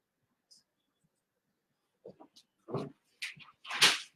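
A dog whimpering and yipping in short, high, nasal cries that grow louder toward the end, rising out of a quiet room.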